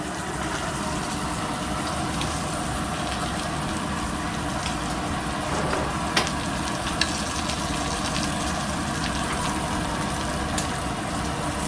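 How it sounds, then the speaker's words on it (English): Fat renders from a steak in a hot pan, making a loud, even sizzle that holds steady for over ten seconds, with a few sharp spits and pops over a faint background hum. "So now the steak's been rendering a bit"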